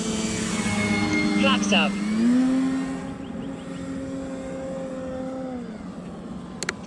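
An E-flite Carbon Z Cub SS radio-controlled floatplane's electric motor winds up as power is slowly applied for a takeoff from water, a steady rising whine that sweeps upward then levels into a sustained drone, with a brief spoken callout over it.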